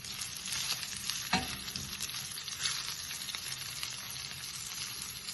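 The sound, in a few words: stirring spices into frying ghee rice mixture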